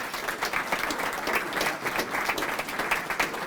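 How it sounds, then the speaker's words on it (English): An audience at a chamber of commerce economic forecast event gives a round of applause, with dense, steady clapping that continues evenly throughout. "If we could give him a round of applause"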